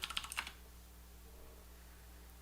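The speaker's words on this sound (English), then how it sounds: "type in Lightspeed here" Brief burst of typing on a computer keyboard, about half a second of quick, close key clicks, followed by quiet room tone and one final tap at the end.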